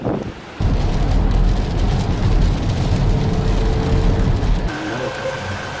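Heavy rain pours steadily on a vehicle during a stormy road trip in Antique, Philippines, a dense, loud wash with low rumbling road noise throughout and no talking.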